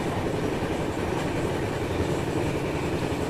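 A long-distance Indian passenger train runs on its rails, a loud, dense rumble with a continuous rattle and faint clickety-clack, heard from close by and unbroken by speech.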